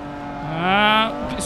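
A race car engine revs upward and accelerates in Forza Motorsport 7, rising pitch through a corner, loud and close, with a brief dip and swell near the end.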